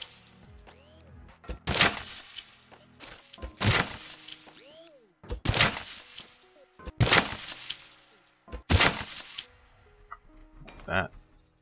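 Auto-fire cardboard artillery rounds strike a wall in a row of five loud, sharp impacts spaced about two seconds apart, each a broad crack with a brief rattle, with quiet gaps between and a softer knock at the end.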